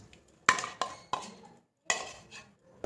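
Ladle working a coconut mixture in a metal pot, giving a series of sharp scraping clanks, about six distinct strikes separated by short pauses.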